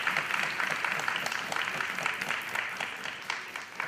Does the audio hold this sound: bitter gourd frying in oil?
no